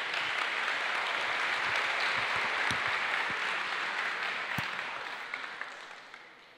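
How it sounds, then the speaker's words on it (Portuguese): A church congregation applauds after a Bible reading during a sermon, a full, even wave of clapping that holds steady and then gradually thins and fades toward the end. "vamos aplaudir a palavra do Senhor"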